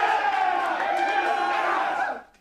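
Crowd cheering and whooping from a group of people, a loud, continuous roar of many voices lasting about two seconds before cutting off abruptly.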